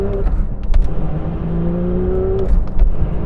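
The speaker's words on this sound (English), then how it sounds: "The way that revs up is just lovely." A Porsche 911 S/T engine revs up and settles in the cabin, with a rising tone sweeping over a steady road rumble and no talking.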